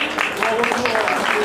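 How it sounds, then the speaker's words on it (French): Applause from an audience at a chocolate truffle demonstration at a trade fair, a dense continuous patter of clapping heard close and fairly loud, with a voice speaking briefly over it. "Merci à vous pour vos applaudissements"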